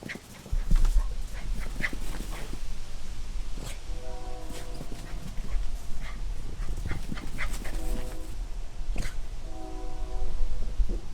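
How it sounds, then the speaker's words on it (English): Several dogs bark excitedly and repeatedly at a Bay Area boat setting, the barks scattered and fairly distant over steady background rumble, with a faint horn-like tone sounding intermittently. "And the dogs are going crazy."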